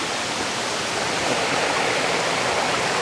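A waterfall in Vietnam pours with a dense, steady roar of rushing water, loud and close, unbroken for the whole stretch with no voices.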